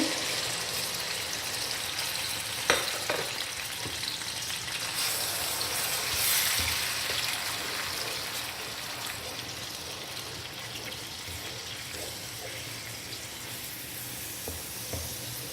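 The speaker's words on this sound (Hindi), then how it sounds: "इसे मैं 5 से 7 मिनट इस तरह भूनूंगी ताकि प्याज की अपनी एक जो स्मेल है वो ख़त्म हो जाए" Ground onions fry in a pot for a turnip and mutton winter curry, giving a soft, continuous sizzle with occasional faint stirring clinks and no speech.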